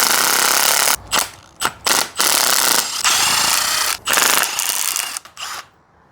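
Ratchet working loose the cylinder head bolts on a 1968 Camaro's 327 small-block Chevy, loud close clicking runs broken by several short pauses as the handle is reset.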